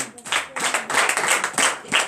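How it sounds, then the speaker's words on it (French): A church congregation at a morning prayer service claps in uneven bursts of several hands, fairly close and lively, with voices mixed into the clapping. "Donnez l'acclamation à Jésus."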